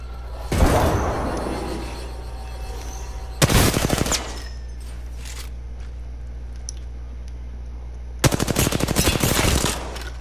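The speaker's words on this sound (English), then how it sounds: "I'm shooting from afar." A gun in Apex Legends fires three loud, rapid automatic bursts, each lasting under a second to about two seconds, spaced by stretches of quieter game ambience.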